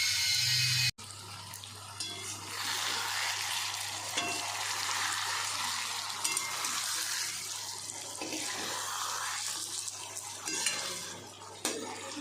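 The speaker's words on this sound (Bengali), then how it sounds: "জল দিয়ে দেব, আর জলটাও কম দেব।" Water poured into a pan of frying fish curry made with mustard sets off a loud, steady hiss and sizzle after a sharp start, crackling and bubbling close by for several seconds with no talking.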